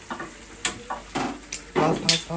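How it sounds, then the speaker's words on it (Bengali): An egg fries in a pan while a utensil scrapes and taps in short bursts over a soft sizzle, heard up close. "ডিমটা ভেজে নাও"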